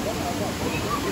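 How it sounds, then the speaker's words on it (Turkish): A waterfall keeps up a steady, broadband roar of rushing water, with no breaks or changes in level. "Şimdi bu şelaleye gireceğiz, girebilirsek eğer."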